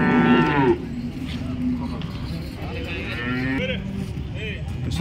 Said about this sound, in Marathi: ही गाय आहे